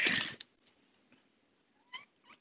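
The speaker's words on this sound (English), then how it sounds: "There's the kitty cat." A house cat meows loudly once up close, followed by a few quieter short chirps and mews with near silence between them.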